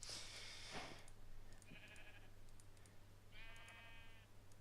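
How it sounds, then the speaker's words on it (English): Sheep in Minecraft bleat twice in short, quiet, wavering calls a couple of seconds apart over faint background noise and light clicking, with no voices. "Look, a sheep!"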